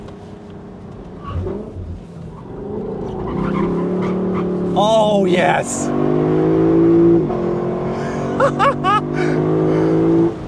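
A 2026 Lexus LC500 Convertible engine revs hard and climbs in pitch, loud and close, with a few sharp blips near the end and a brief excited shout.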